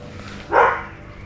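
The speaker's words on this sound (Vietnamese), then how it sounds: "Con chó bên kia nó sủa bực mình vậy không." A neighbor's dog next door lets out a single short bark, fairly close and sharp, over a quiet background.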